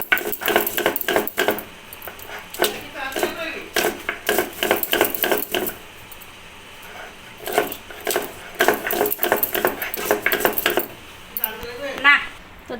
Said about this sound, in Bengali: কাঁচা পাকা লঙ্কাগুলোকে বেটে নেব